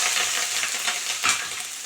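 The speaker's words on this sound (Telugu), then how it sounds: "దీంట్లో మనం కరివేపాకు వేసుకోవాలి" Curry leaves sizzle in hot oil in a cooking pan, a steady close frying hiss with brief louder crackles as they are stirred, and no voices.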